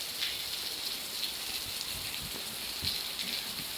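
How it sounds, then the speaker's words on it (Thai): Rain falling and drumming on surfaces nearby, a dense, steady hiss with scattered louder drops, continuous and fairly close throughout, with no voices. "อาบน้ำฝนเล่นน้ำฝนดีกว่ามั่งวันนี้"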